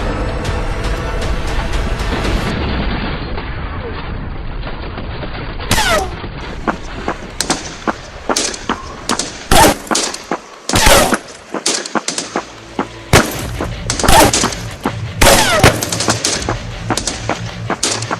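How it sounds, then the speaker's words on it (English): Taliban machine guns open up during an Afghanistan firefight: loud, close bursts of automatic gunfire crack out in irregular volleys over a rumbling battlefield background. "Taliban machine guns opened up from the west"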